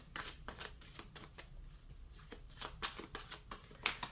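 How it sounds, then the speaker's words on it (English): Rapid riffling of tarot cards being shuffled, a steady series of crisp snapping bursts close by, with no voices. "I'll shuffle one more."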